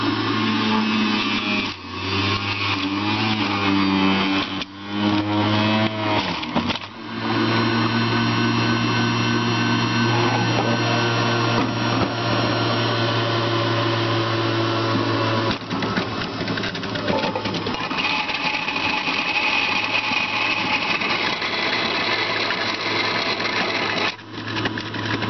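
A Breville JE98XL juicer grinds homegrown apples with a loud, steady motor whine and rattling, churning grinding that runs throughout, with brief dips as the load shifts.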